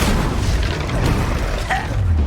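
Expelliarmus spell cast in Hogwarts Legacy, a dense booming burst of magical impact with a brief bright whoosh near the end, loud and close over a continuous rumble.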